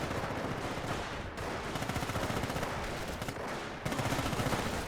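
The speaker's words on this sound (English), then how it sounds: "Machine gun doesn't seem to be suppressing, but drops a model." Machine gun fire in Company of Heroes rattles in dense, loud sustained bursts with rapid repeated shots, broken by short gaps between bursts and heavy battlefield rumble beneath.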